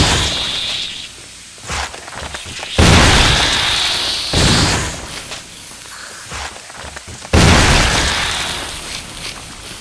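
Bursting, gory blasts of a creature exploding in the 2002 Resident Evil game, several loud crashing booms spaced a few seconds apart, with shuffling and squelchy effects between them.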